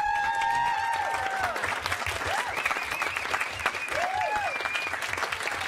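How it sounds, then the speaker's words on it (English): Steady applause from a crowd fills the whole stretch, continuous and fairly loud, with a voice and some tonal sounds carrying over it. "How about a round of applause"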